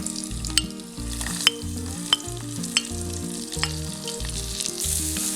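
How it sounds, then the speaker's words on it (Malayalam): Ginger, green chili, shallots and curry leaves sauté in hot coconut oil for a prawn, mango and drumstick curry, with a loud, constant sizzle and sharp spatula scrapes and ticks against the pan. "ഇതിലേക്ക് നമുക്ക് ഇഞ്ചി, പച്ചമുളക്, ചെറിയുള്ളി, കറിവേപ്പില ഇത്രയും സാധനങ്ങൾ ഒന്ന് വഴറ്റിയെടുക്കാം"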